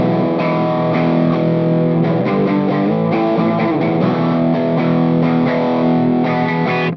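Electric guitar through a distortion pedal with asymmetric clipping, played on an eight-string multiscale guitar; sustained chords and picked notes, loud and compressed, no talking.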